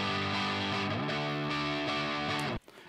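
Distorted electric rhythm guitar through an Orange amp and cabinet miked with an SM57 chugs out a few crunchy sustained chords, then stops abruptly, leaving a brief noisy tail.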